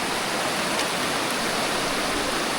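A river crossed during a mountain hike rushes steadily, a loud, close, unbroken wash of flowing water with no voices over it.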